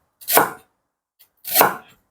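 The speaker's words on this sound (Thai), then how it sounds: "ตะไคร้นี่ก็หั่นเก็บไว้เลยครับ" Two crisp knife chops through lemongrass on a cutting board, about a second apart, close and clear with silence between.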